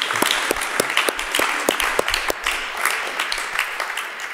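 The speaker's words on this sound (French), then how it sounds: "un tonnerre d'applaudissements pour ceux qui vont vous subjuguer ce soir, Maître Mouli et Maître Brouillou-Laporte." Loud, close audience applause greets performers at a staged mock trial, with sharp individual claps punctuating a dense wash of clapping that continues throughout.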